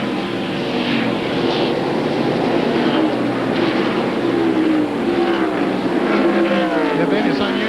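NASCAR Winston Cup stock cars racing on the Watkins Glen road course in 1997, loud engines revving and swooping past in several rising and falling passes, with a commentator talking over the roar.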